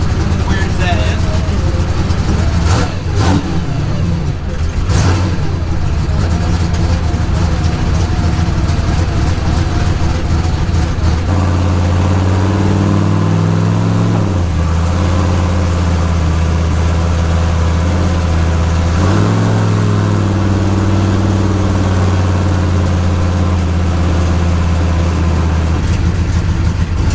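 Turbocharged Ford Mustang engine idles with a deep, steady rumble and a few blips of rising revs, loud and close, with people talking over it.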